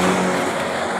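A Ford Ranger pickup's engine, running rough with its exhaust coming loose, holds a steady, close, droning rev with a strained tone, with no talk over it.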